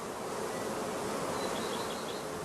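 Honeybees buzzing around straw heather skeps in a spring apiary, a steady close swarm hum with a faint rustle beneath, continuous and even throughout.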